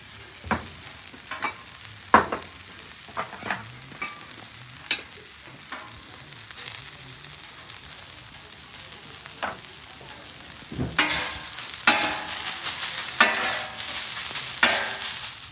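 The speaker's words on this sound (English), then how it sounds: "since our flat top's been on a little bit, we've had our onions caramelizing" Onions caramelizing on a hot Camp Chef flat top griddle give a steady, fairly quiet sizzle with scattered scraping and stirring clicks, and the sizzle swells louder and denser toward the end.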